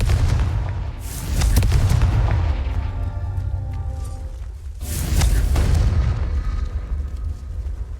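Explosive Confringo spell blasts in the video game Hogwarts Legacy, two loud booming detonations a few seconds apart, each with a heavy low rumble that lingers and decays under continuous game noise.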